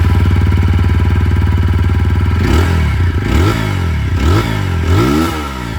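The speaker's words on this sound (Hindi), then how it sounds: "तो चलिए यहाँ पर दोनों बाइक की जो एग्जॉस्ट साउंड है वो मैं आप लोगों को सुनाता हूँ।" A 2026 TVS Apache 160 4V motorcycle exhaust, first idling in a fast, even thump, then blipped through several sharp revs that rise and fall, loud and close with no talk.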